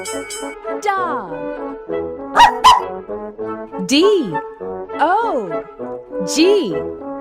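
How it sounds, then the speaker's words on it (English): A dog barks several times among a children's animal-naming sequence, the yaps interleaved with bright, gliding tonal voice-like sounds at a fairly loud, close level. "D-O-G. Dog."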